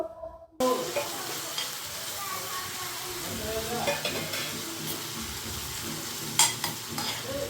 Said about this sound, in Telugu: ఈరోజైతే మా అందరికీ కూడా అరటికాయ ఫ్రై చేస్తున్నాను